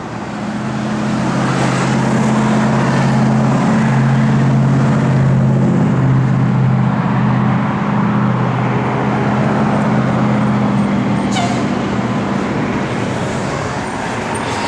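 A 1964 Dodge Polara 500's 440 V8 with dual quads, Edelbrock intake and stock exhaust idles steadily and loudly up close, a deep rumbling drone holding constant for the whole stretch with no talking.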